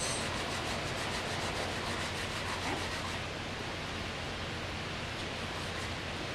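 Fresh ginger root scraped with a scraper gives a steady, close, broadband rasping and rubbing that is denser in the first half and eases off later, with no voices.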